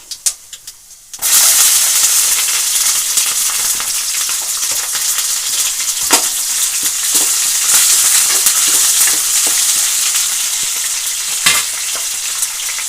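After a quiet second, chana dal and green chillies hit a hot pan and burst into a loud, continuous frying sizzle with occasional stirring scrapes throughout.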